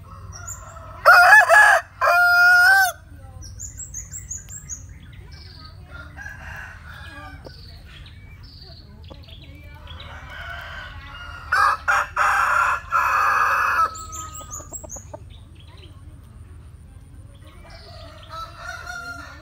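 A rooster crows loudly nearby twice, each call a long ragged cry, with soft clucks and a faint crow in the distance between, over low ambient noise.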